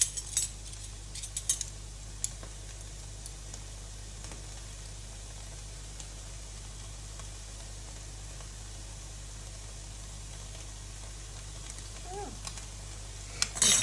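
Cumin and other spices stirred in a hot pan give a steady, even sizzle with occasional scrapes of a spoon against the metal, heard up close and without voices.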